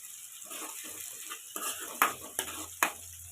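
Onions frying in a pan until brownish, a soft sizzle broken by several sharp metallic scrapes and taps of a spoon stirring against the pan, close and quiet, no talking.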